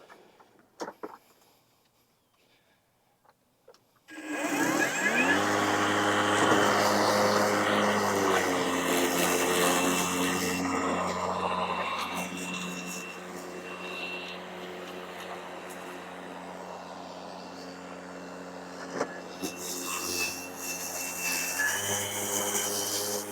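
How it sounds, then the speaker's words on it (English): WESCO 22-inch 60-volt brushless self-propelled lawn mower starting up and cutting grass, a loud, steady motor whine that dips and rises in speed as it meets taller grass, close by and without speech. "when it reaches taller grass, it's like the lawnmower motor ramps up in speed"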